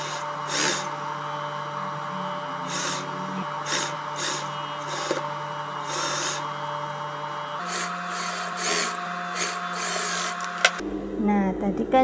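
A sewing machine runs steadily, stitching around the neckline of a nursing-friendly gamis dress, its motor hum continuous for the whole stretch, with brief shifts in pitch and a final clatter.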